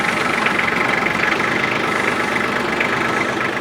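A Kubota L3200 tractor's diesel engine idles close by with the emergency brake on, a steady, even rumble with a slight rhythmic knock throughout.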